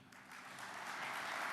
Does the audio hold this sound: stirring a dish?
no